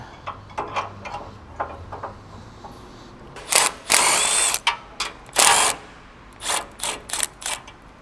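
A ratchet loosens the factory tow hook mount bolts on a Ford Bronco, with quick ratcheting bursts and short pauses, then a few longer, louder buzzing pulls close by.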